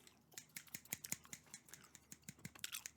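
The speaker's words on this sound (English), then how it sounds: "The old Barber scissors for barbershop role plays." Old barber scissors handled and snipped in a quiet close-up setting, a string of crisp metallic clicks and snips at an irregular, fairly quick rhythm, close and fairly faint, with no voice.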